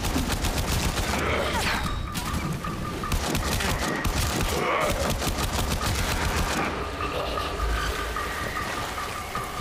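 Dense, continuous rattling of assault rifle fire in a sci-fi shooter game, loud and unbroken throughout, with a hissing, rain-like texture of rapid shots layered together.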